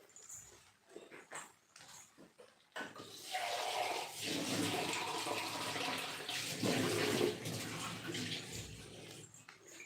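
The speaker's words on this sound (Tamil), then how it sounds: "கொஞ்சம் தண்ணி சேர்க்கிறேன்" Water poured into a cooking pan while making tamarind rice from leftover rice, a sudden rushing splash that continues steadily for several seconds after a few quieter clinks and handling sounds.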